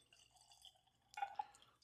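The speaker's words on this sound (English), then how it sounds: "I may have poured a little bit too much in there." Jack Daniel's Bonded Rye whiskey poured into a glass, a short quiet trickle of liquid ending in a couple of brief splashy drips, close and alone.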